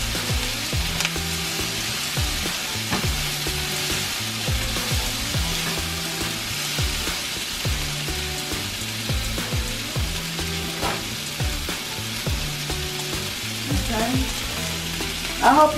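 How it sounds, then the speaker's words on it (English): A soy sauce mixture for pepper steak sizzles loudly and continuously in a hot pan while being stirred, with occasional soft scraping and knocking from the utensil. "I want to mix this, soy sauce and this mixture really well"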